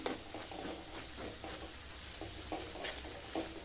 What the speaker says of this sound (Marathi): आता हा चांगल्यापैकी तेलामध्ये फ्राय करून घेते